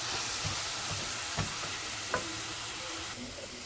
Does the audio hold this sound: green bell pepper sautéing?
yes